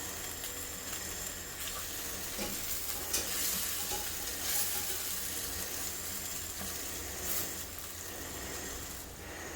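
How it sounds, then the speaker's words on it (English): Shallots, garlic and chilli padi sizzle steadily in melted butter in a pan, a continuous close frying hiss with occasional stirring scrapes and crackles and no talking. "Once the butter melts, we're going to add in the shallots, garlic, and the chilli padi."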